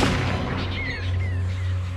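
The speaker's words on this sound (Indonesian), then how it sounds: "lalu terdengar tembakan" A loud, dense burst of gunfire or explosive booms in the film Anaconda, with a low rumbling drone underneath and faint whistling tones above, like a dramatic battle scene.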